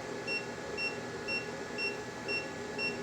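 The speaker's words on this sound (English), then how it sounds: "once we reach 1500 watts, it starts beeping" Faint, evenly spaced high-pitched beeps from a 12V power inverter overloaded past 1500 watts repeat about twice a second over a steady background hum.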